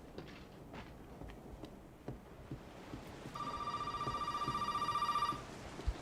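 A telephone rings inside the video game Resident Evil 7, a steady electronic trill lasting about two seconds over quiet ambient game noise and faint footsteps.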